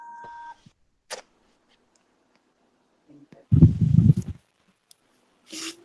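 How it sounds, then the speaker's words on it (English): A short electronic beep sounds near the start of a quiet room, followed by scattered clicks, a burst of low rumbling noise and brief breathy sounds, with no clear talking. "there's some beeping noise in the background"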